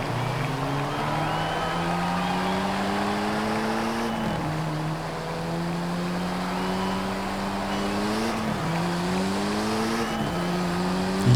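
Car engine of a 700+ HP VW Golf R MK7 drones continuously in Forza Horizon 5, its pitch climbing steadily and dropping sharply with each gear shift, repeating several times.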